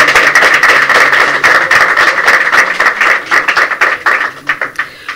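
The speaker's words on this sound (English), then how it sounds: "Please, another round of applause for all of them." An audience at an arts and design publication launch claps steadily and loudly, the dense applause thinning into scattered individual claps before fading.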